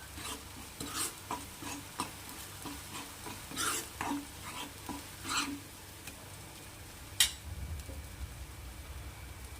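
Homemade garam masala frying in a pan while being stirred, a faint steady sizzle broken by repeated scraping strokes of a spoon against the pan, with one sharper metallic clink near the end.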